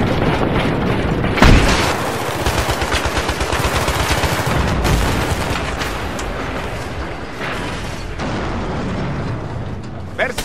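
Gunfire in the Battlefield 3 mission Operation Swordbreaker: a sharp, loud shot followed by continuous rattling weapon and mechanical noise, with distant bursts and faint radio-style voices beneath.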